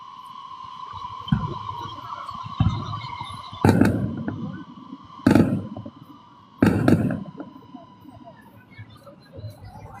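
Fireworks go off during a walk around Da Nang: three loud, sharp bursts a second or two apart over a steady city hum, with a voice talking at times.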